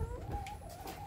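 A laying hen in a Thai backyard garden clucks, a soft, close, drawn-out call lasting about a second over low background rumble.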